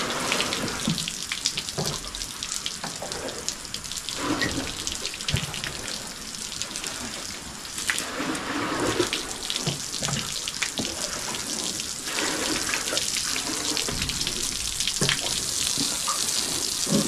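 Water runs steadily from a tap or hose while a five-day-old calf is bathed; a continuous, fairly close splashing rush with small surges and no talk.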